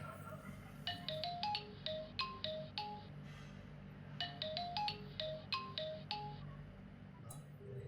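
A melodic phone ringtone plays in repeated bursts of rising and falling notes over a low background rumble.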